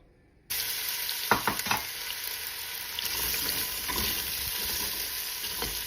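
Oil hits a hot pan with an abrupt, steady sizzle that holds loud throughout, broken by a few short clatters of stirring early on, while a Mexican potato and cheese soup is started.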